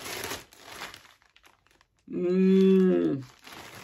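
Crinkling plastic packaging from a King Cole yarn parcel being pulled open by hand, bursts of crackle at the start and a loud, close tearing crinkle near the end, with a quiet pause between.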